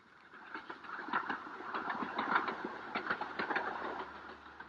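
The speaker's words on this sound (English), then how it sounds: "the little 2-foot gauge railway which puffs and grunts its way up towards the Himalayan foothills" A little 2-foot gauge mountain railway train chugs steadily uphill toward the Himalayan foothills near Darjeeling, its rhythmic puffing and rattling running continuously at moderate loudness with no one talking.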